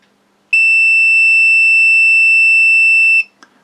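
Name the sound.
multimeter continuity test beep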